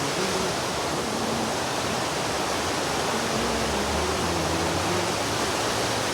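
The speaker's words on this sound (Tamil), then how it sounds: "அப்படியே ஒரு நீரோடை, அருவி இதெல்லாம் ரொம்ப பிரமாதமாக இருக்குது" A stream and waterfall flowing along a green walking path, a loud, steady rush of water throughout with no voices.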